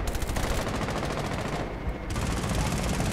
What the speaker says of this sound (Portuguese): De onde tá vindo esses tiros?